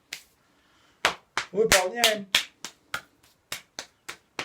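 Hands patting the body during a qigong massage for cough relief: a steady series of sharp slaps about every third of a second, close and fairly loud, with a brief spoken word over them.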